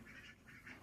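A duck quacks in a few quick, faint nasal bursts at close range, a brief cluster of calls in a quiet setting.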